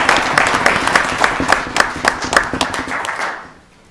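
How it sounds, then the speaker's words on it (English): Audience applause at a city inauguration ceremony in Woburn, a burst of dense hand clapping with sharp individual claps that fades out toward the end. "That's worthy of applause."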